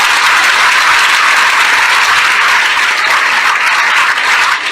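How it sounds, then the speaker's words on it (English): A large audience at an entrepreneur event gives a loud, steady round of applause that fills the whole stretch without a break. "the loudest round of applause"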